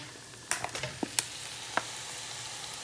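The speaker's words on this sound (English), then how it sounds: "we are gonna crank the heat up and we're gonna tip all the diced meat in here" Diced meat for a Bombay curry is tipped into a hot pan over high heat, producing a quiet, even sizzle with a few crisp spatters and utensil clicks early on.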